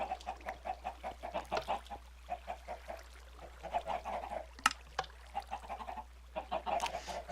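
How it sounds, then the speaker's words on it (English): Chickens in Minecraft clucking in a busy overlapping stream of short repeated clucks, moderately quiet, with a couple of sharper squawks, no talk. "the chickens are still trying to get out"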